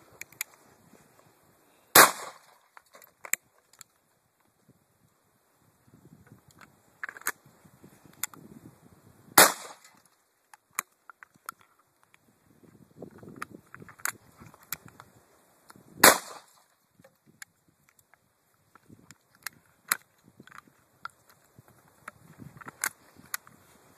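Call of Duty video game gunfire played on a PS2, a few loud, sharp single shots spaced several seconds apart over quieter clicks and scattered game noise.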